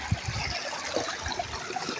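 Spring water bubbling up out of the ground, a soft irregular gurgle and trickle with small pops, heard close by and alone for a couple of seconds.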